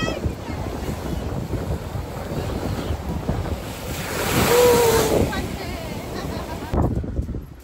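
Sea waves surge and break on the shore beside a seaside temple at Dwarka, a loud rushing wash that swells midway, with wind buffeting the microphone throughout.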